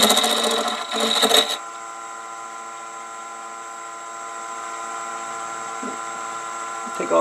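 A wood lathe turns steadily at 850 RPM with a round nose tool, giving a continuous tonal whir with harmonic hum; a louder burst of cutting or handling noise comes in the first second and a half, then the spin runs alone.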